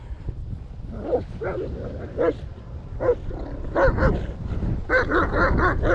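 A German Shepherd barks in a series of sharp, loud, uneven yaps and yips close by, with brief whimpering tones between barks and steady outdoor background noise underneath.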